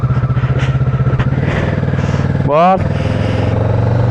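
A motorcycle, ridden home from work on the road, engine droning steadily up close with a brief revving surge partway through. A short spoken word is heard over it.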